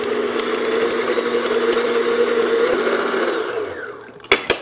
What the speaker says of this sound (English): I'm just gonna beat this just until it gets nice and smooth.